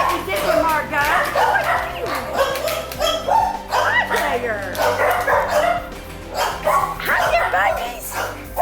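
Puppies and their mother dogs bark, yip and whimper in an excited, overlapping chorus nearby while someone speaks warmly over them.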